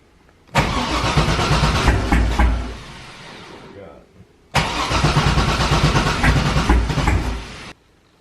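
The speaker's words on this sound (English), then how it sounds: "So go ahead, Eugene, fire it up." A car engine in a drift car with freshly redone wiring cranks and catches twice, each attempt a loud, rough, sputtering roar of a few seconds that dies away, separated by a brief pause.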